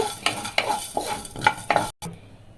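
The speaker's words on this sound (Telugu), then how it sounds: "ఒక టేబుల్ స్పూన్ ధనియాలు కూడా వేసుకొని లో ఫ్లేమ్లో పెట్టుకొని ఫ్రై చేసుకోవాలండి" Coriander seeds dry-roasting in a pan over a low flame, stirred with a spoon that gives a run of regular scraping strokes and light clinks over a faint sizzle, close up and with no talking.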